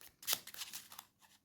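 Slippery tarot cards being shuffled by hand, a quick flurry of soft riffling slaps and flicks, close and quiet, with one sharper snap early on and no talking.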